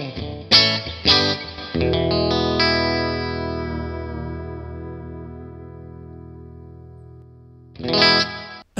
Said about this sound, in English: Here is that position 4, the out of phase position on the Stratocaster.